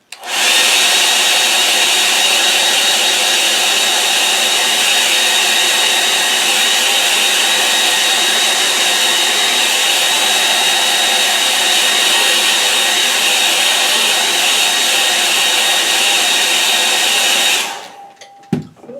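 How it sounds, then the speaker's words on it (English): A hair dryer blows steadily and loudly close by, drying a gouache painting, a continuous broadband whoosh lasting about seventeen seconds before it switches off, followed by a faint clatter. "I'm going to dry that bit there."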